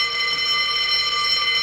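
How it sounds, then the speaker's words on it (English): An institutional fire alarm rings steadily inside a women's prison, a loud continuous electronic tone holding unbroken throughout with no pauses. "You heard the fire alarm, so who's on fire?"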